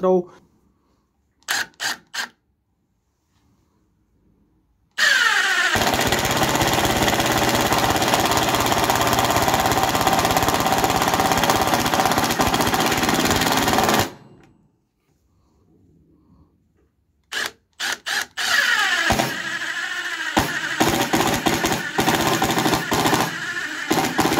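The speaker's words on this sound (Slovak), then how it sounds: "Pokračujeme skrutkovaním skrutiek o priemere 6, 8 a 10 mm." A Milwaukee M18 FID2 cordless impact driver drives 6, 8 and 10 mm screws, with rapid hammering rattles in a long sustained burst and short trigger blips before and after, loud and close, separated by near silence.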